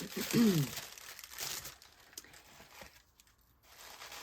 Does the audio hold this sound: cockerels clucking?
no